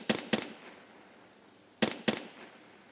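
Gunfire in Escape from Tarkov: two quick pairs of sharp, cracking shots, moderately distant, with a pause of over a second between the pairs and quiet background ambience in between.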